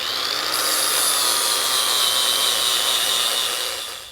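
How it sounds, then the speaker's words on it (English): An angle grinder cuts a notch into a metal mounting flange during a small-block Ford and 5-speed swap into a 1966 Bronco, giving a loud, steady high-pitched whine for about four seconds with no talk. "we'll take a grinder, grind a notch here in this mounting flange so we've got clearance for our mounting bolts"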